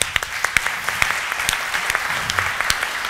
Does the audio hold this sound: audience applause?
yes